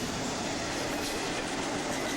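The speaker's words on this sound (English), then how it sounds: "they have heavy train action going through town here" Heavy train rolling through a town, a steady, broad rumble of wheels and railcars at moderate distance, continuous with no pause and no voices.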